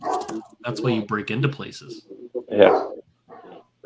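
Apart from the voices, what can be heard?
dog barking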